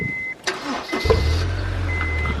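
A Honda S2000 engine cranks and fires up at about one second, settling into a steady, loud, close idle rumble after a brief click and rustle.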